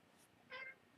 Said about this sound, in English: That was the cat that just busted through the door.